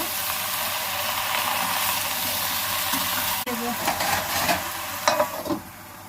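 Salted food sizzling steadily in a pan on a home stove, with a utensil stirring and scraping through it in bursts toward the end.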